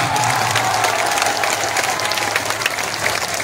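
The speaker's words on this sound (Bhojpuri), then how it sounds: "अब ताली बजा लेने" Dense applause from a large crowd at a political rally in Kaimur, Bihar, steady and loud throughout without pause, with a faint sustained tone running underneath.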